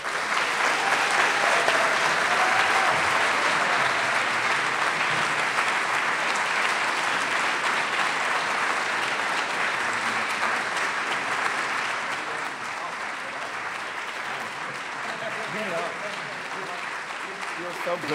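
A large audience applauding to welcome High Line co-founder Robert Hammond at his farewell talk, sustained full clapping that carries at steady strength for most of the stretch, then eases slightly toward the end.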